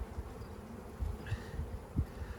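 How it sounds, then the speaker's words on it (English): Honey bees buzz around an open swarm hive during an inspection, a faint continuous droning hum with soft low thumps and no talk. "You can see there's just full of bees."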